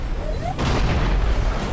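Cannon fire in the video game Dungeon Siege 3: a sudden heavy boom lands after a quieter stretch, then a dense rumbling roar carries on, loud and close, with no voices.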